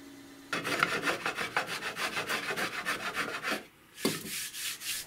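Steady back-and-forth rubbing and rasping of a hand plane and sandpaper working wooden sawhorse parts, close and continuous, with a short pause before the strokes resume.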